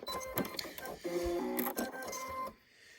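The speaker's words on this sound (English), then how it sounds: "I will do just a little reverse stitch just to secure it" A sewing machine runs a short reverse stitch across a drawstring bag, giving a brief mechanical whirring burst of about a second and a half that stops abruptly.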